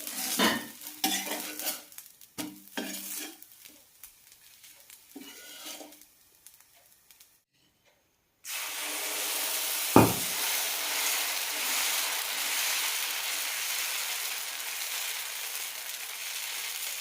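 Broken wheat dosa sizzling steadily on a hot pan after a brief silence, with a loud scrape or tap partway through as it is turned; earlier stirring and utensil clatter.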